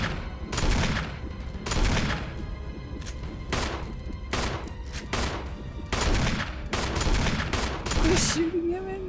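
Repeated volleys of gunfire in the Resident Evil Remake video game, loud, sharp bursts coming every second or so, with faint talking between the shots.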